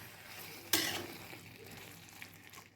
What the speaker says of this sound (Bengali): এবার আমি আদা রসুনের পেস্টটা দিয়ে নিয়ে আবার একটু নাড়াচাড়া করে ঢাকা দিয়ে দেবো